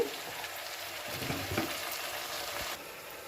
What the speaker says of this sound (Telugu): ఉప్పు కారం పసుపు వేసినాక ఒకసారి మొత్తం బాగా కలుపుదాము